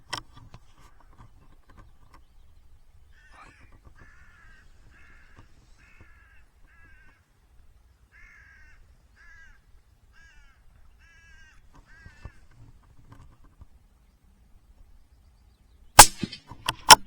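A hooded crow caws repeatedly in a quiet outdoor setting, a run of harsh calls at moderate distance, followed near the end by a few sharp, loud cracks.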